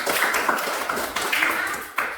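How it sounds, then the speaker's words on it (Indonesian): A school class claps hands together in a classroom, a brisk run of sharp claps with a few distinct accented strikes and faint voices. "Tepuk tangan untuk kita semua"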